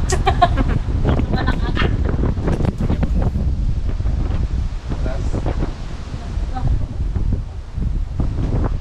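Strong wind buffets loudly and continuously at a rappelling site, with people talking intermittently underneath.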